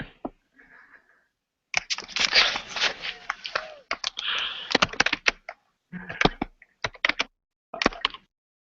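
Hard, fast typing on a computer keyboard, bursts of rapid clattering keystrokes close to the microphone, broken by short pauses and faint background sound.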